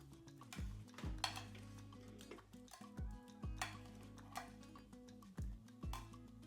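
Roast potatoes being turned in hot duck fat, a series of sharp utensil clinks and scrapes against a metal roasting tin, spaced a second or so apart, close and fairly quiet, with a soft sizzle between them.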